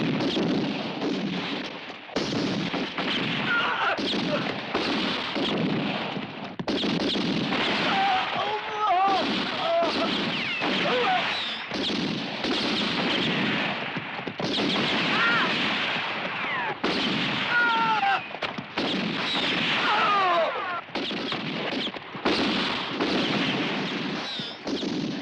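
Gunfire crackles through a shootout in a French-dubbed action western, with dense, repeated shots and bursts over a long stretch, mixed with shouting voices and the bustle of the fight.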